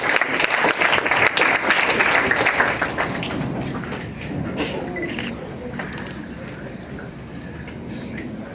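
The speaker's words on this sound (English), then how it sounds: "Give him a round of applause too." A theatre audience applauds a volunteer hypnotist at a stage hypnosis show, a dense, loud burst of clapping that thins and fades after a few seconds, with voices talking underneath.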